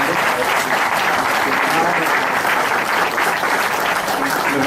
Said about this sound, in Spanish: despedimos nuevamente con un aplauso al maestro Fidel Arroyo Hernández